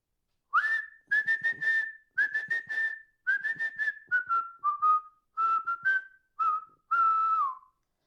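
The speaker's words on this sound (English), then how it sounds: "So do you want to whistle on the camera?" A person whistles the melody of a song alone, in a series of clear sustained phrases with short breaks, close and fairly loud.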